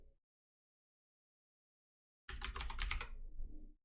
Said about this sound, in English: Wait, why did I type Marco?